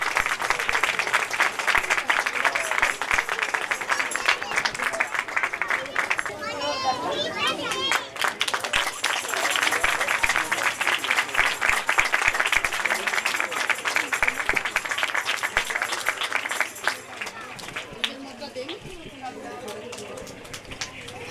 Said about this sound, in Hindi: इनके लिए जोरदार तालियां बजा दें।